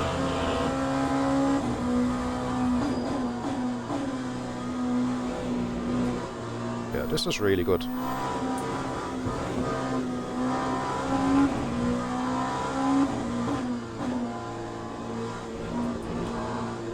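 A race car engine in the Le Mans Ultimate sim racing game holds a steady, droning tone throughout with a brief sharp burst partway through, while someone talks over it.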